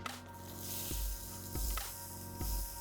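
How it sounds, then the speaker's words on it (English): Cold water flicked from wet hands onto a hot pan heated for searing an Angus rib eye gives a steady hiss, with several sharp spitting bursts that swell and fade at intervals. "Nice little hiss, like a pissed off Australian snake."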